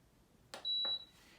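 Power XL air fryer control panel gives two short electronic beeps followed by a longer steady tone as cooking settings are keyed in, close and clear in a quiet kitchen.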